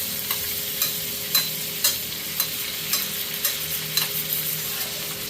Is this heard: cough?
no